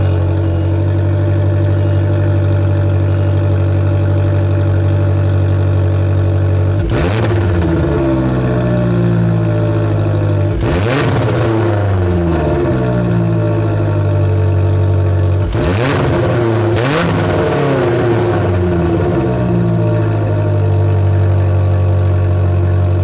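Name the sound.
car with Thermal Dynamics Touring rear exhaust running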